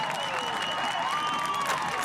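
A crowd at a boys' high school soccer playoff cheers and applauds after a late goal. The roar is steady and somewhat distant, with whistles and raised voices threaded through it.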